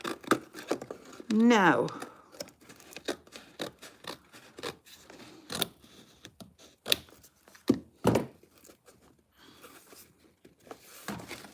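Scissors snip and rasp along a drawn line, with short irregular cuts and scratchy rubbing strokes, close and fairly quiet, while a voice speaks briefly.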